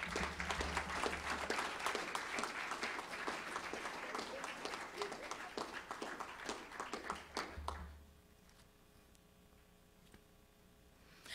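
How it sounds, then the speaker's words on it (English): Warm audience applause at a Delaware state event with Gov. John Carney, many hands clapping steadily for several seconds before the room falls quiet. "Ladies and gentlemen, give a warm round of applause, a Delaware round of applause to Imani."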